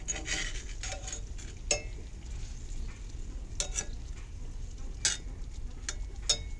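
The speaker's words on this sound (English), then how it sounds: "But they're still sizzling." Steady crackling sizzle of apples frying in a cast iron pan in a greenhouse, with scattered scraping and stirring clatters over it.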